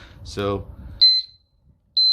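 Anti-theft alarm on a Royal Enfield Meteor 350 motorcycle gives sharp, loud, high electronic beeps in short bursts, a double chirp followed by a pause and another, heard close after someone speaks briefly.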